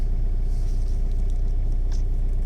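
A 2007 Renault Laguna 2 phase 2 with a 1.9 dCi 130 diesel engine and a freshly replaced EGR valve runs close by, giving a steady, loud, low diesel rumble with an even throb throughout.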